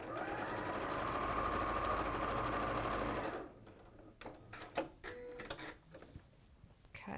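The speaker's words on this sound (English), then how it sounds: "we'll just stitch that on" A sewing machine stitches fabric pieces for a quilt, running as a loud, steady mechanical whir for about three seconds before stopping. Quieter rustling and handling of the fabric follow.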